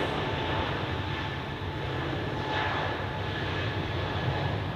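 An aircraft landing on runway 14 at Zurich Airport, a steady broadband engine roar heard from a distance, sustained throughout without a clear rise or fall.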